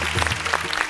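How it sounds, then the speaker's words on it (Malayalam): Audience applause for a song on a music show, a short burst of quick, dense clapping heard close and fairly loud, with no voices over it. "പാട്ട് സെലക്ഷന് വലിയൊരു കൈയടി."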